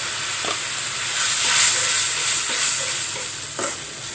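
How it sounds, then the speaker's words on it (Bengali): Dried chillies and spices frying in a pan for a tomato fish curry give a steady close sizzle, with a few soft stirring scrapes and no voices. "এখন আমি শুকনো মরিচগুলো একটু দিয়ে দেব।"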